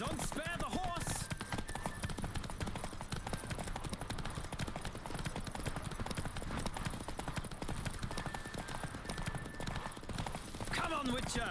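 Horse hooves pound in a rapid, steady gallop during a race in The Witcher 3 video game, with a brief whinny amid game sounds and voices.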